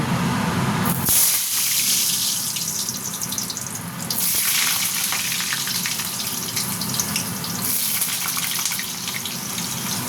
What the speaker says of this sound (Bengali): এটাকে আমি একটু লাল লাল করে ভেজে নেব।